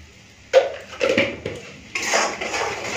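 Spoon stirring salt, sugar and other ingredients in a metal pot for a fish curry, a few sharp clanks and scrapes in quick succession, close and fairly loud.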